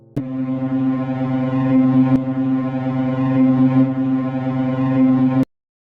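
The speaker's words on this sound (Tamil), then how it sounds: "அப்போ சடனாக ஒரு சைரன் சவுண்ட் கேட்குது" A loud, steady siren wails on one sustained droning tone for several seconds, then cuts off abruptly into silence.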